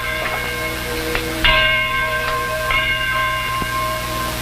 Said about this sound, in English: There's the bell. Isn't it beautiful?